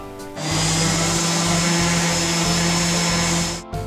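An orbital sander whirs on a wooden chair, stripping old finish and stain, in a continuous, high-pitched electric drone that starts abruptly and runs steadily for a few seconds before stopping.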